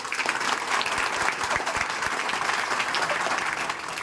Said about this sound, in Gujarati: તમામ લોકો તાળીઓના ગરગડાટ તેમનું સ્વાગત કરીશું